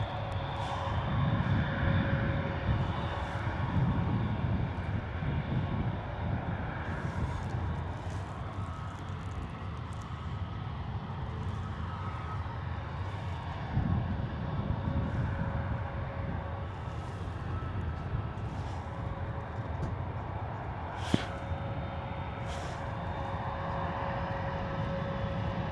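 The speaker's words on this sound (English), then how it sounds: "A321neo, Wizz Air out the door, off to Belgrade" A Wizz Air Airbus A321neo jet departs with a continuous, moderate engine rumble and a faint steady whine that holds for the whole stretch, apart from a few small clicks.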